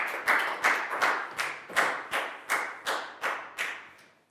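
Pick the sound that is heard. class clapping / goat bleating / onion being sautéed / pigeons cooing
class clapping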